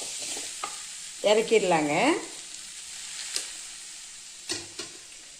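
Guava chutney ingredients stirred in a frying pan, a soft scraping and faint sizzle running steadily near the mic, with brief speech over it and a few light clicks.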